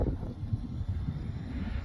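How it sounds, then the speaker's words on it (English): Low, steady wind rumbles and buffets against the microphone outdoors at an RC plane flying session, with no other clear sounds. "But it's very windy right now."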